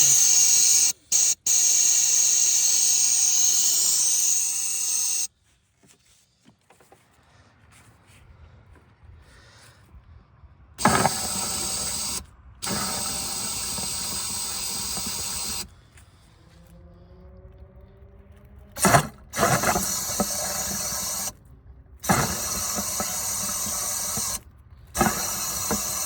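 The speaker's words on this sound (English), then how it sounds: "I'm just going to be trying to push any remaining water out" Compressed air blows through the heater core of a 2011 BMW 528i F10, coming as loud hissing blasts separated by silent gaps, some bursts long and steady, others short sharp puffs.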